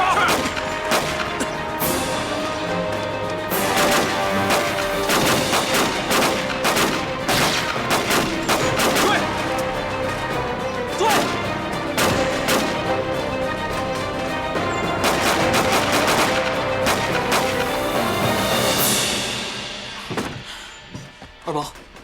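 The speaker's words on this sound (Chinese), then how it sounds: "好像是你爹弹药库那边发生了枪战" A gunfight near an ammunition depot erupts in dense, rapid volleys of gunshots and crashing bursts that overlap continuously before fading near the end, loud and chaotic, with voices mixed in.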